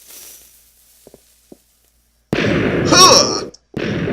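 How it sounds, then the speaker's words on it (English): A ship's cannon fires in a pirate video game, one loud booming blast followed by rumbling, crackling debris, then a brief gap and continued rumble, preceded by a few faint clicks and brief talk. "Huh! Yes! Okay, so the cannon does work."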